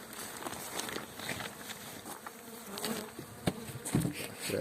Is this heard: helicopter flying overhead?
no